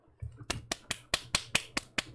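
Steady hand clapping, about ten sharp claps in an even rhythm, close and fairly loud with no voices over it.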